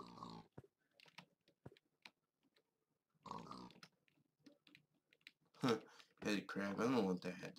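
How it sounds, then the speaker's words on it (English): Pigs oink in the Minecraft modpack Crazy Craft, a few short grunts heard between bursts of keyboard typing, with someone talking over them toward the end. "All I see is pigs, seriously."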